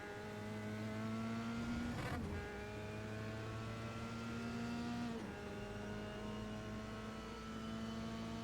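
An onboard Formula 3 race car engine at Road America, a loud steady high-pitched drone holding speed, with two sharp pitch dips as the driver shifts gears, no talk.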